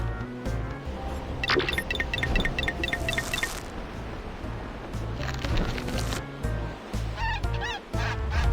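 A golden goose in the fairy-tale game American McGee's Grimm honks in short repeated bursts amid clinking game effects and a low rumbling backdrop, calls clustered early and again near the end.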